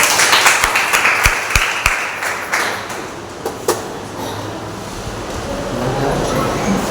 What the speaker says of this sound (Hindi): आइए उस पवित्र परमेश्वर के लिए एक बार जोरदार तालियां हो जाए।